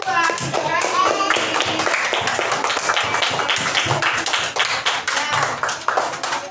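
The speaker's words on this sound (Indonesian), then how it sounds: "Tepuk tangan untuk mereka berdua." A classroom of children claps for a group of classmates, a loud, dense patter of many small hands that continues steadily, with children's voices mixed in.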